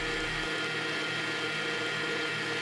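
An electric mixer blends eggs into creamed batter for a lighter Jamaican Christmas fruit cake, giving a steady, close, unbroken whir that holds at an even pitch throughout, with no talking.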